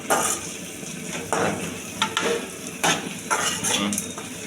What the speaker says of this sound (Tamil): இப்போ வந்து பார்த்தீங்கன்னா வெங்காயம் நல்லா வதங்கிட்டு பாருங்க